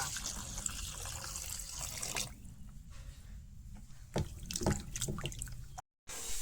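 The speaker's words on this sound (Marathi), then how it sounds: "चला तर मटण आहे बाजारात ना पहिला आपण धुवून घेऊया" Raw mutton rinsed under running water in a village kitchen, a steady splashing trickle with intermittent drips and louder bursts of pouring, close by with no talking.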